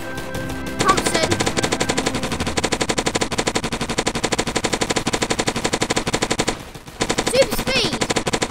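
A Thompson submachine gun fires in Roblox as long rapid bursts of rhythmic shots, loud and close, with one short pause before the firing resumes.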